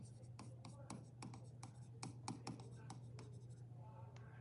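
Pen scratching across paper while a math ratio problem is annotated, a rapid run of short strokes and taps going on steadily, close and soft, over a low constant hum.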